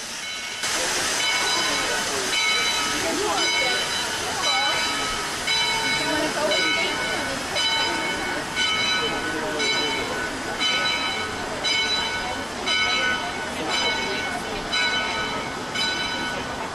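Shay steam locomotive No. 10, built in 1928, runs on the Yosemite Sugar Pine Railway, with continuous loud steam hiss and steady rhythmic chuffing throughout, heard fairly close.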